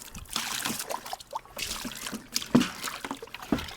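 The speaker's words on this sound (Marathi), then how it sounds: "आता आपण पाणी मारून घेऊ ह्याच्यावरती" Water splashed and poured over a freshly scrubbed chair, giving close, irregular sloshing, trickling and dripping with a few sharper splashes, no talking.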